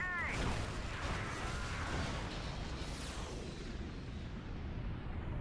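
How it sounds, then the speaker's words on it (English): A huge cinematic explosion in Command & Conquer Generals, a loud, dense rumble with swooshing debris that carries on steadily for several seconds, with no talk over it. "one of the sweetest Michael Bay style 360 explosions you've ever seen"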